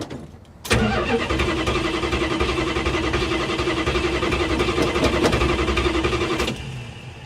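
A 1973 Plymouth Scamp, a flood-damaged car, cranks and catches on its first start, then runs in a steady, close, fairly loud idle for about six seconds before cutting back down.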